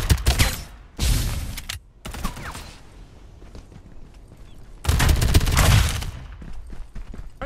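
Assault rifle fire in the Farlight 84 squads battle game comes in loud, sharp bursts of rapid shots, several separate volleys broken by brief quieter gaps.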